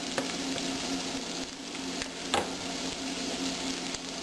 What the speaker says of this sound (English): Now the potatoes have been frying for about 2 minutes